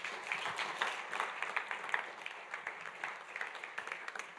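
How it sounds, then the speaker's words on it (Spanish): A church congregation claps in scattered, uneven bursts, faint and fairly distant, fading in and out. "Le da un aplauso fuerte, hijos de Dios"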